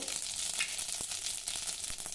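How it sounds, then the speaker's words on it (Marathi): Mustard seeds and cumin sizzle in hot ghee for a tempering, giving a soft, continuous crackle with small pops scattered through it, fairly quiet and close, with no speech. "तूप चांगलं गरम झालं। आता यामध्ये थोडी मोहरी घालू"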